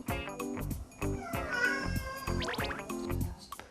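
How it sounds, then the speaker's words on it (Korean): A house cat meows insistently indoors, demanding to go outside, with a few drawn-out rising and falling cries over a busy, thumping background. "이건 좀 강력하게 요구할 때 야옹에 가깝거든요"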